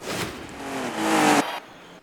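Toyota Land Cruiser AT37 engine in Forza Horizon 5, revving up with a rising tone for over a second, then cutting off sharply into a quieter settling whir, alone and close.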